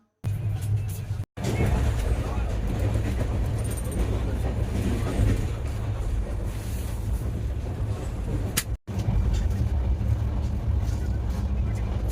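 Steady loud rumble of the Shalimar–Puri weekly superfast express heard from inside as it enters Balasore, a continuous low roar with wind noise and two brief dropouts.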